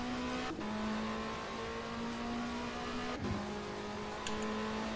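Racing car engines in the video game Race 07 at Melbourne, a continuous loud engine drone with steady pitch and brief shifts or revs, no talking.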